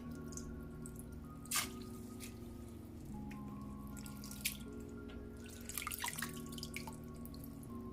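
Water poured over soaked sea moss in a kitchen, a close trickling and dripping with a few squishy splashes, under a steady background hum.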